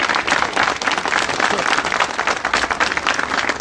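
Loud, steady applause from a gathered crowd at a press conference supporting the Good Price store, honoring the owner's father, dense clapping close by and continuing throughout.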